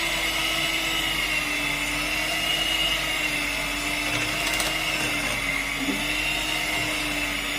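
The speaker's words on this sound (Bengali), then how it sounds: "ব্লেন্ডার দিয়ে ভালো করে আপনার এটাকে ফেটিয়ে একদম ফ্লাফি করে নিতে হবে।" An electric blender whipping lentil batter for dahi bara until fluffy, a loud continuous motor whir holding steady for several seconds, no one talking.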